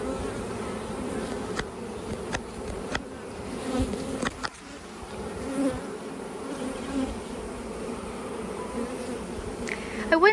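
Honey bees from one of two hives drone in a steady, close swarm during a July hive inspection, with occasional sharp clicks and handling knocks over the continuous buzz.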